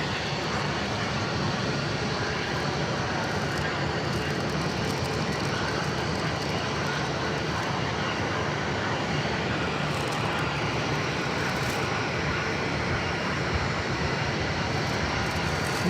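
A passenger airliner takes off at Phoenix Sky Harbor airport with a loud, steady, broadband jet engine roar that holds for the full stretch and has no talk over it.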